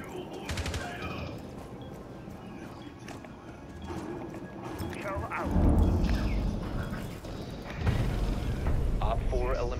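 Shotgun blasts in the tactical shooter Rainbow Six Siege, heavy booming shots scattered among general in-game clatter and footsteps, with voices talking over much of it.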